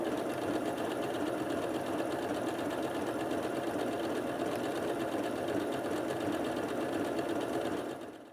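A Janome Atelier 9 sewing and embroidery machine stitching at a long stitch length, a steady close mechanical whirr with rapid needle clatter running continuously for several seconds before stopping.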